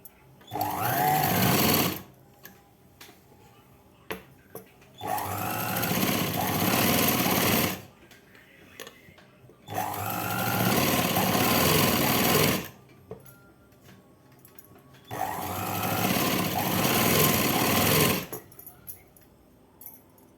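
Sewing machine stitching a night dress, four bursts of rapid mechanical whirring and clatter of about three seconds each, separated by quiet pauses with faint handling sounds, close and loud.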